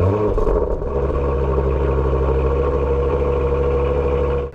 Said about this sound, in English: So let's go ahead and take this Macan GTS for a spin.